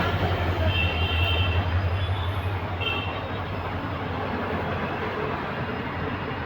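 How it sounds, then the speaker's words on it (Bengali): Train running from Kamakhya station toward Guwahati station, a steady low rumble with continuous broadband rolling noise throughout, fairly close and without talk. "এই যে কামাখ্যা স্টেশন থেকে ট্রেন যাচ্ছে গুয়াহাটি স্টেশনে"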